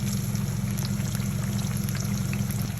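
A kebab frying in oil over a medium flame gives a steady, continuous sizzle with a low, even bubbling bed. It holds at a constant loudness with no talking.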